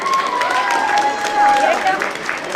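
An audience at a Tamil school annual day and graduation ceremony in Dayton claps for prize-winning children, a short burst of scattered applause mixed with crowd murmur and a voice speaking over it.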